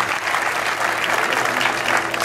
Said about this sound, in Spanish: Un fuerte aplauso entonces para el vicecampeón Greg Jones de Australia